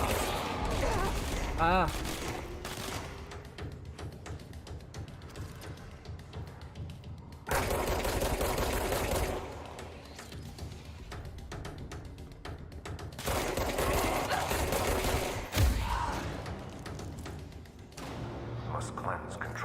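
Bursts of gunfire in the video game Control come in dense volleys with heavy thuds, loud and close, separated by quieter stretches, while a voice talks over parts of it.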